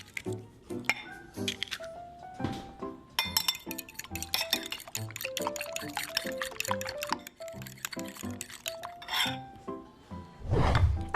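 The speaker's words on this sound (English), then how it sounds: "Now add 4 eggs into a bowl and whisk together." Four eggs are whisked together in a bowl, with a quick, uneven run of clinks against the bowl and wet squishing close by. There is no talking.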